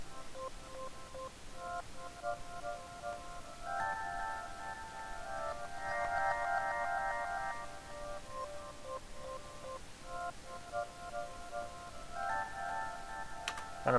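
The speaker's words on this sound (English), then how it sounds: "it's just the music box under Goliath" A music box sample from the East West Goliath library plays soft, tinkling notes in a slow melody. The notes fade in and out across the passage, quiet and alone over a faint hiss.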